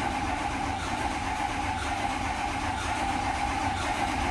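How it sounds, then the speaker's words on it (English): The engine of a white dually truck runs, steady and moderately loud, with a faint uneven pulse in its continuous drone and no one talking. "It's cranking."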